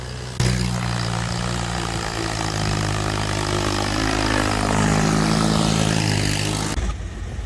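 A Swaraj tractor's diesel engine runs steadily and close by on a rural morning, a loud continuous low throb with engine harmonics that starts abruptly and cuts off near the end.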